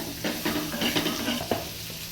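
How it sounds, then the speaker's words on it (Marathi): Vegetables for kartule bhaji are stirred in a hot frying pan, a steady close sizzle with repeated scraping strokes of a spoon and a single sharp knock. "हलवून घेत आहे आई आता"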